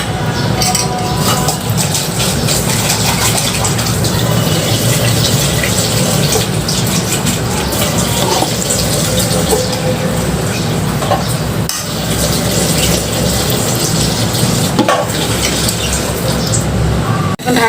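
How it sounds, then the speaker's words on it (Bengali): Water pours steadily into a small kadai holding jackfruit on a stove, a continuous close gushing and splashing that lasts the whole stretch with only slight dips. "একটু পানি দিয়ে দিই"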